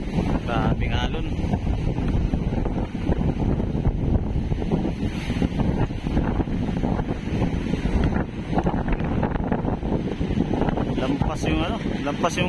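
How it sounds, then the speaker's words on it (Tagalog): Strong wind from Super Typhoon Pepito roars against the microphone at a pier in Dinahican, Infanta, Quezon, with big sea waves crashing beneath, a steady loud buffeting throughout while someone talks over it. "tapos yung hangin, malakas yung hangin. Alon, malakas."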